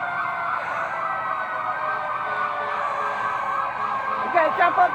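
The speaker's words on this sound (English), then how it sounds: "Emergency vehicles with Santa Claus." A fire truck and ambulance sound their wailing emergency sirens together, steady and loud throughout, with a few brief bursts of people's voices near the end.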